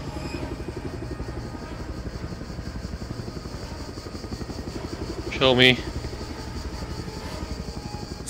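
A helicopter in the Just Cause 2 video game drones with a steady, close rotor chop throughout, while a voice speaks briefly and a short electronic tone cuts in.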